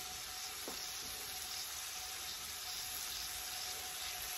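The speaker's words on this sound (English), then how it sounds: "I can see the oil bubbling." Pork tenderloin sizzles in hot oil in a pan, a bright, steady frying hiss that holds evenly throughout, with a brief clink near the start and no one talking over it.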